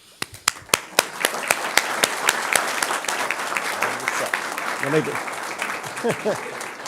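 Board meeting attendees clap for the employee of the month, opening with a run of loud, crisp, close claps that blend into a denser round of applause, with voices briefly talking over it near the end.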